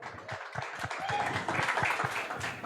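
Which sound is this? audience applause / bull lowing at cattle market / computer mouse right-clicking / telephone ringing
audience applause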